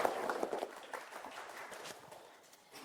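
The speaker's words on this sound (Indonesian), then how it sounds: "beri tepuk tangan dulu" Classroom applause for a student's answer during a teaching session, a burst of scattered clapping that starts loud and gradually thins out over a few seconds.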